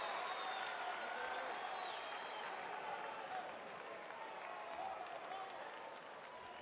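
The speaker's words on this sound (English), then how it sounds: "Certainly got this crowd going." Basketball arena crowd at a FIBA World Cup qualifier between Puerto Rico and USA, steady applause and cheering after a play, a broad sustained roar that eases slightly toward the end, with a commentator's voice beneath it.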